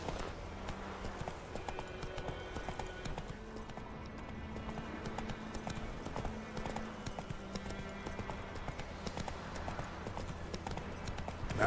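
Roach, the horse in The Witcher 3: Wild Hunt, galloping with rapid rhythmic hoofbeats under a continuous layer of game ambience and music, steady and close throughout.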